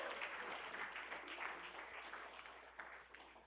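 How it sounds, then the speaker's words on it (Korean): An audience at a church lecture gives warm, dense applause, a fairly faint wash of many hands clapping together, steady with small swells, and no voices over it. "수고하신 어머님을 위해서 다 같이 뜨거운 박수를 한번 보여드리겠습니다."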